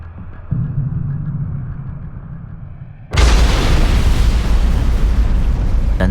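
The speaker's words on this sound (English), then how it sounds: "Then there's a shattering explosion" Dynamite blows up a blockhouse on an island: after a low rumbling background, a sudden loud, broadband blast erupts and keeps roaring, dense and powerful.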